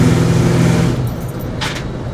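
A lifted 1972 K-10 4x4 truck accelerates with a loud, close engine roar for about a second, then eases off to a lower rumble, and a brief jingling rattle follows.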